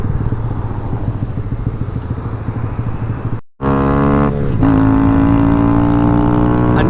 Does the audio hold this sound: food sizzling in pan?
no